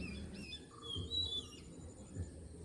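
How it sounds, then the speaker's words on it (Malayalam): Birds chirping beside a river in green rural countryside near a vegetable farm, several short whistled tweets and calls rising and falling over a soft, low background murmur, fairly faint and unaccompanied by voices. "ആ പുഴയും ഒപ്പം ആ കിളികളുടെ ശബ്ദവും ഒക്കെ കേൾക്കുമ്പോൾ"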